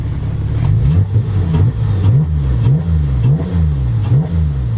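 Porsche 996 Carrera track car with cams, an 8-pound flywheel and a 6-puck clutch, engine revving loud and close in repeated quick blips, the pitch rising and falling sharply several times in a steady rhythm.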